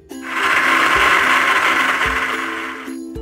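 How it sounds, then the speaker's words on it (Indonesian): Electric blender grinding a spice paste of cashew nuts with water or oil, a steady loud whirring motor hum that holds for about three seconds, close and alone. "Kita bantu dengan air boleh, minyak boleh, kita blender."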